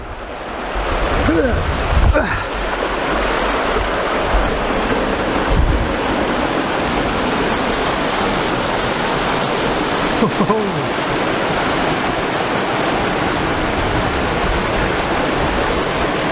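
Gweebarra river rushing through a small gorge, a loud, steady roar of fast water with wind buffeting the microphone and a few faint bumps, continuous throughout.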